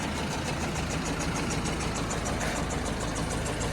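A Bison 110 hp tractor engine idles steadily with a constant low rumble and a faint rhythmic chugging throughout, no voices.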